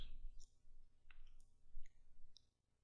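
Two letters typed on a computer keyboard in a quiet room, close and faint. There are a few soft separate key clicks with short gaps between them.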